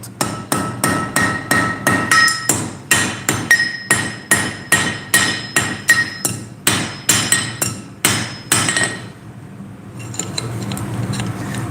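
Blacksmith's hammer striking a small axe head on an anvil during forging, a steady run of about twenty sharp ringing metallic blows close by, then a pause with faint shop noise.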